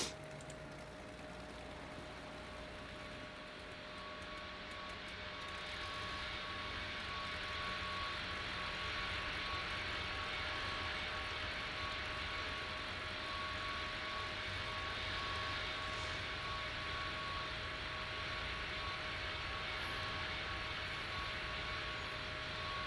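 An Emirates heavy airliner lands on runway 04 right in the Tower Simulator 3 game at Copenhagen. Its steady jet engine roar with a high whine builds and holds loud for over twenty seconds, with no voices.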